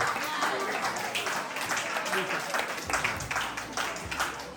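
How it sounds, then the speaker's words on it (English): An audience claps for a student called up for the most improved award at a school graduation ceremony, a continuous spread of clapping with voices mixed in. "I want you to clap Khadija."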